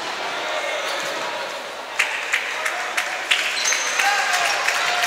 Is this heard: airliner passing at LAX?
no